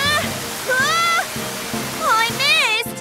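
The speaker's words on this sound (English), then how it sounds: "And spray them with water." Cartoon fire-training water spray hisses steadily at boards set around a building, a continuous broad rush running under excited animated voices talking throughout.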